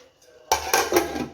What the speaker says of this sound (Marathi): या पाण्याची झाकण लावून ठेवते